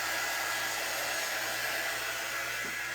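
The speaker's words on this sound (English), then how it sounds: "This is our quick dry tool, and it works great for speeding up the drying process" A quick-dry heat tool blows steadily on painted wood for a two-sided fall and Halloween pumpkin craft, a loud continuous broadband whoosh with a faint low hum underneath and no breaks.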